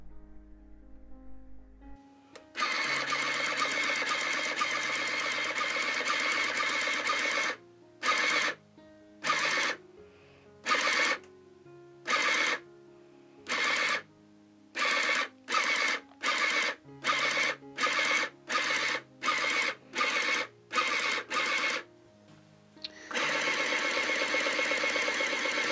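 A Sinclair ZX Printer prints with a loud, steady buzzing whine. The whine breaks into a long run of short, regular bursts separated by brief pauses, then settles back into continuous printing.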